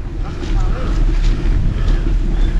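Strong wind roars and gusts across the microphone during a bike ride on the Taal Loop, a continuous loud rumble that swells slightly partway through.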